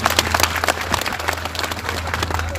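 Audience applause at a music gathering, loud continuous clapping from many hands with dense, overlapping rhythm throughout, fairly close.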